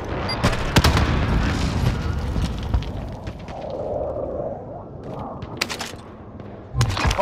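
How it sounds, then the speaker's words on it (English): Submachine gun fire in a video game comes as dense bursts of rapid shots and booms, loud and close, then thins into scattered sharp cracks with a couple of heavy hits at the end. "Got a submachine gun here."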